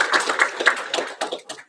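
Scattered clapping from a graduation audience comes in a short burst of separate claps, uneven and thinning out toward the end.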